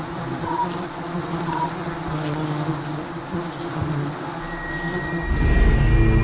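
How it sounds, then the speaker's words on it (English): A dense, continuous drone of many giant honeybees buzzing close by, swelling louder and deeper toward the end as the swarm intensifies. "These giant stinging honeybees have been known to attack anything that's perceived as dangerous to their queen."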